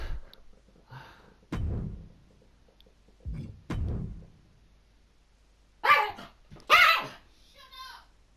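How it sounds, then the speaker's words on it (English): Indoor dog giving a handful of separate barks spaced a second or two apart, close and fairly loud, with a person speaking in between. "That's the only problem when you have a dog."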